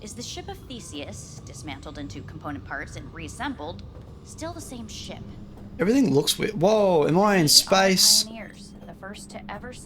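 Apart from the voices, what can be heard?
No distinct noise like a dog, phone or traffic.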